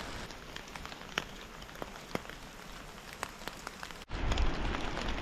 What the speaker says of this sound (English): it's raining so hard behind us, you can't even see the view